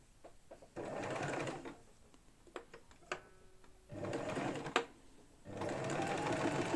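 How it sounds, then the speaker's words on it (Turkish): A domestic sewing machine stitches a bag lining on a short dashed-line setting, whirring in three steady bursts separated by quiet pauses with small clicks, close and fairly loud. "Dikme ayarını şuna getiriyorum kısa kesik çizgilere ve dikmeye başlıyoruz"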